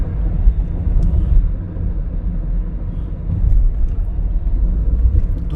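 Light night-time road traffic near Solapur, a steady low rumble of passing vehicles with a slight swell midway, heard continuously without talk.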